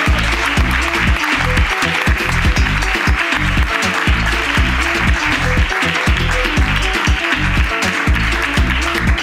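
A live comedy podcast audience applauds as a guest is called onstage, a loud continuous patter of clapping with rhythmic thumps underneath, steady for about nine seconds.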